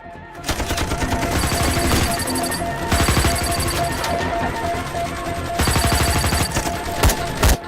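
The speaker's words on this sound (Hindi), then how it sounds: "हम तो फायरिंग कर रहे हैं सर।" Gunfire in a Bollywood action movie comes as dense bursts of rapid automatic shots in loud repeated volleys, with crashing impacts and brief gaps between the barrages.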